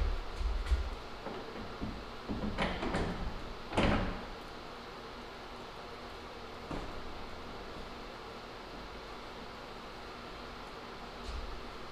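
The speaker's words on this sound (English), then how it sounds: "so now that we got the door up there, it's sliding nicely" A paneled wood sliding barn door rolling along its overhead track hardware with black nylon spacers, a few soft rumbling slides and light knocks close by in a quiet room.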